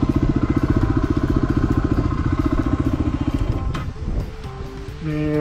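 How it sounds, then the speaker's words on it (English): A Kawasaki WR250R motorcycle engine chugs with a rapid, regular pulse, then the pitch shifts as the rider changes gear and revs up again near the end. "We're gonna do some motorcycle riding up here today."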